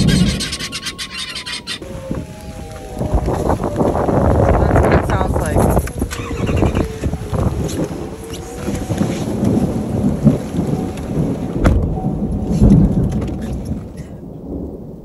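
A thunderstorm with wind and heavy rain sweeps over an RV campground at Thunder Canyon, with thunder rumbling and rolling continuously over a dense wash of rain and gusts.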